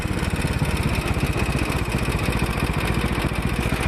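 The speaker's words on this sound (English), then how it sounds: "Letting my motor do most of the braking here." A Royal Enfield motorcycle engine running under engine braking on a downhill mountain pass road, a close, loud, rapid pulsing thump that holds steady throughout with no talking.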